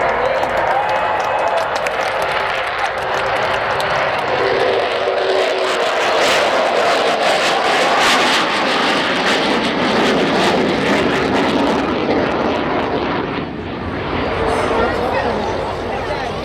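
A loud, continuous jet roar from an Avro Vulcan bomber flying past in an air show display, rumbling and hissing steadily, with voices underneath.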